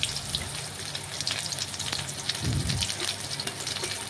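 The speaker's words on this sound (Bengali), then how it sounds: "পেঁয়াজটা একটু নাড়াচাড়া করে ভেজে নেব।" Chopped onion sizzles steadily in hot mustard oil with whole cumin, five-spice and a dried chilli, a continuous close frying hiss with a brief stirring scrape midway.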